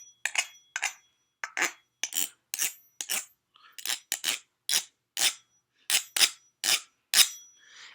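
A fork scrapes across the textured lid of an almond butter jar: about fifteen short, crisp rasping strokes in an uneven rhythm, close and alone.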